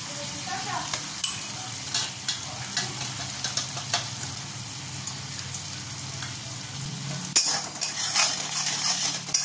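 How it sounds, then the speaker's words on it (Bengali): Green chili and spice paste for a yogurt hilsa curry fries in a pan, a steady close sizzle broken by repeated scraping stirs from a utensil, growing louder and busier near the end. "মশলাটাকে ভালো করে কষিয়ে নেব।"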